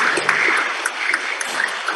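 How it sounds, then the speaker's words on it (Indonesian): An audience at a national seminar applauds, a dense, even patter of clapping with a few sharper individual claps standing out, lasting throughout. "Tepuk tangan untuk GNIK."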